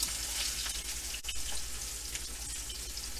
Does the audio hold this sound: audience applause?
no